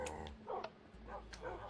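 Dogs bark in Minecraft, sharp repeated yaps in short bursts with faint whimpers between them, heard over a low steady hum of game background noise.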